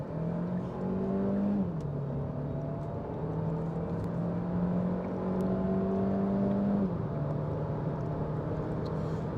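A 2025 Kia Ceed with the 1.5 engine and seven-speed automatic accelerates hard in sport mode, its steady engine drone climbing in pitch, dropping briefly at each upshift, then climbing again, heard from inside the cabin.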